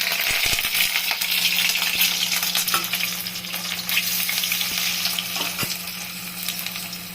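Eggs fry in a pan for egg curry, giving a dense, constant sizzle with a few metallic clinks and scrapes from the utensil, heard close and alone without speech.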